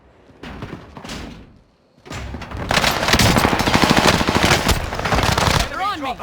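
Rifle fire in a video game, heard through wireless earbuds: a couple of short bursts, a pause, then a long, loud stretch of rapid automatic shots, with slams and thuds among them.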